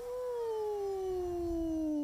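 A singer sustains a steady sliding tone through a Dr. Box vocal training device with puffed puppy cheeks, the pitch gliding slowly downward in one continuous, fairly loud hum with no speech.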